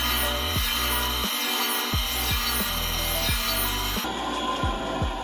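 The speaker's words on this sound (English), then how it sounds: "we'll put the blade in here, get her locked in, and we're good to start sharpening" An ice skate blade is locked into a sharpening machine and ground in rhythmic, repeated passes. A loud, continuous grinding whine rises and falls with each stroke, close up, with no talking.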